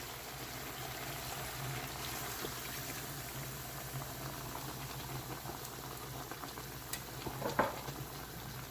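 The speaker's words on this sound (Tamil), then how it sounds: "1/2 கப் சுடு தண்ணி ஆட் பண்ணிடலாம்." Steady bubbling simmer of a pot of pepper chicken curry with liquid hissing and gurgling, a brief louder splash near the end as half a cup of hot water is poured in.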